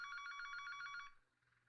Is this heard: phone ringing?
yes